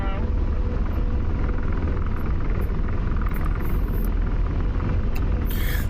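Steady, loud rumble of an AH-64 Apache helicopter's rotor and turbines in the DCS flight simulator, filling the whole span without a break, with faint cockpit tones and brief warning chirps above it.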